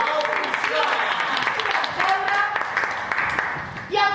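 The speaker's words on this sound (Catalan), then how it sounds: "Un fort aplaudiment per tots nosaltres" Audience applause at a Catalan political theatre show for the independence referendum, a dense, steady wash of clapping filling the room, with voices mixed in and a swell near the end.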